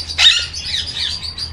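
Ringneck parrots in a breeding setup give a quick burst of bright chirps near the start, followed by softer, scattered tweets over a low steady background hum.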